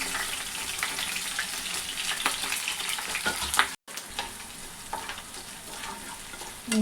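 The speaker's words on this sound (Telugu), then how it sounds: "అల్లం కలిపి వేగుతున్నాయి" Chopped ginger frying in hot oil as tempering for tamarind pulihora, a continuous close sizzle with stirring, briefly cutting out midway before resuming.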